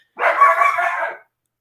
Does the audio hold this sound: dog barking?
yes